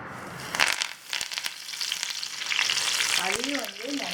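Curry leaves hit hot oil for kara boondi, set off a strong, bright sizzle with crackling pops, steady and close, with a voice murmuring briefly near the end.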